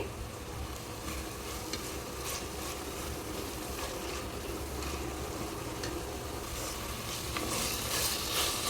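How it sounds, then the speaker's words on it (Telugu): Tomato puree masala with turmeric fries in oil, giving a steady, dense sizzle with occasional scraping stirs and soft spatters, close and continuous throughout. "మనం వేసిన ఆయిల్ అంతా కూడా పైకి వచ్చేలా కొద్దిసేపు వేయించుకోవాలి."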